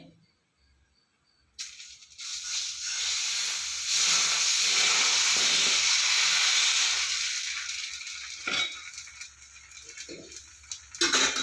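Dosa batter hits a hot pan and bursts into a loud, steady sizzle that swells, holds for several seconds, then eases back, with a few small clicks and rattles near the end.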